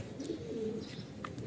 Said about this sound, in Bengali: কবুতরগুলো দেখতে আসলে আপনারা।